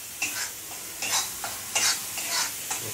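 Ground masala paste of onion, tomato, garlic, coconut and coriander frying in a pan, with a soft sizzle under about six scraping stirs at an even pace, close but fairly quiet.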